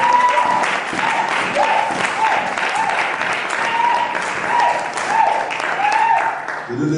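A church congregation at a French-language service applauds the Lord, steady dense clapping from many hands filling the room for several seconds, with a voice speaking over it.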